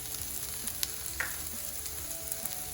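Cumin powder, Italian seasoning and paprika fry in a pan with a soft, close sizzle broken by light stirring clicks, brief and quiet with no talking.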